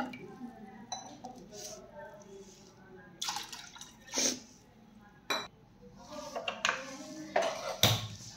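Water splashes and trickles into a pressure cooker holding soaked chickpeas, with intermittent pours, drips and metallic clinks of the pot at close range.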